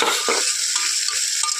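Bengali spice paste frying in a pan with fresh green chilli, a steady dense sizzle with a brief stir scrape near the start, close and continuous.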